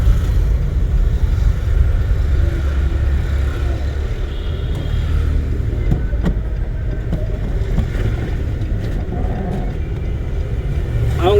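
A car engine runs steadily during a driving lesson, a loud continuous low rumble from inside the cabin with faint clicks and small shifts in tone, holding level throughout without a clear pause.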